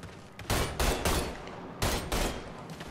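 Bursts of rapid gunfire in Mafia 3, several volleys separated by short pauses, fairly quiet and without talk.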